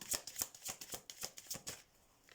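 A deck of tarot cards being shuffled close by, about eight crisp riffling swishes in a steady rhythm before a short quiet tail, with no voices.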